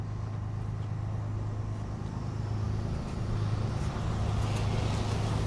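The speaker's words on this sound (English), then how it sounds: "And you can see how well it drives, and when you stop, it has a built-in brake in the motors." Quantum Edge 6 powerchair driving on its motors, giving a steady low electric hum with a faint whine, fairly quiet and continuous as the chair moves.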